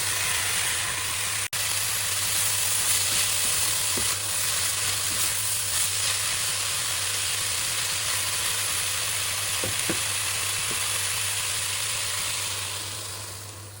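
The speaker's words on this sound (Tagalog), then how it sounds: "So, pakuluin natin hanggang sa maluto yung ating mga ingredients" Chicken stock simmering with chicken pie filling ingredients in a pot, a constant close hiss and bubbling rush with a low hum beneath and an occasional faint clink, no voices.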